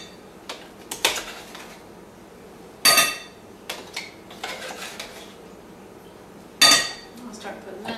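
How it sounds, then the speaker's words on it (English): A big spoon knocks and scrapes stuck broccoli out of a container while dog food is being made, giving sharp metallic clanks and clinks at irregular intervals, two of them loud, with softer scraping between them. "I like to use a big spoon, and broccoli's getting a little stuck, so I'm going to clear out some of this in here"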